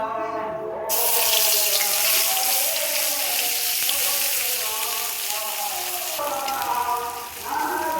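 Onion paste and whole garam masala frying in hot oil, a loud broadband sizzle that flares up sharply after a second and continues steadily, with faint talk over it.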